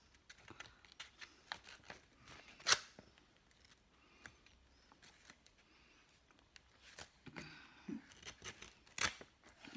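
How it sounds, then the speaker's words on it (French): A craft knife slices through a paper envelope, making quiet, intermittent scratchy cutting strokes with a few sharper snips, heard close up and with no talking. "je vais faire avec le cutter parce que sinon je vais enlever tout l'enveloppe"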